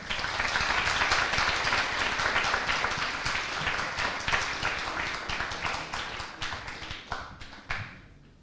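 A live audience at an eloquence contest in Le Mans applauds a speaker with dense, steady clapping that gradually thins out into scattered individual claps toward the end.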